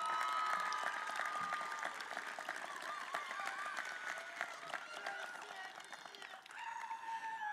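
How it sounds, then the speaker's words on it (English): A large crowd claps at a morning commencement ceremony, a steady wash of applause heard from a distance at low level, tapering slightly near the end. "Please, let's have a round of applause for everyone."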